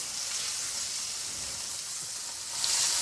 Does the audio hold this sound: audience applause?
no